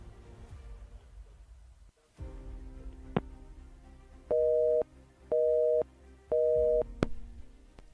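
Telephone busy tone on a radio call-in show after the caller's line drops: three steady, evenly spaced beeps, each about half a second, following a stretch of low line noise.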